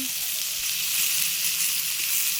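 Meatballs frying in a hot pan with garlic and black pepper, a steady loud sizzle and hiss holding evenly throughout.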